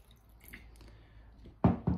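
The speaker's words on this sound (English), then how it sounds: "And I'm going to add a splash of water" A splash of water poured into a chalk paint mixture: two short, loud liquid bursts near the end, the second briefer, after a quiet stretch of faint background rustle.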